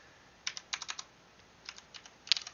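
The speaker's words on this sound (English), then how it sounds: "I'm not typing any regression parts of the formula" Keystrokes on a computer keyboard while a function formula is typed, light separate clicks in short bursts with pauses between them, close and fairly quiet with no talking.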